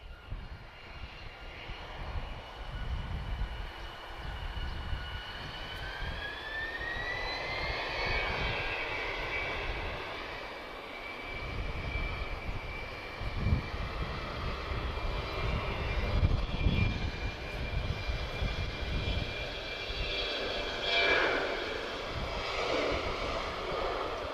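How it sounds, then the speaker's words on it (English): An Airbus A330 jet taxis at Lisbon Airport, its engines holding a continuous loud roar with a rising whine that swells and shifts throughout, steady and close with some wind noise. "Okay, A330 is already taxiing."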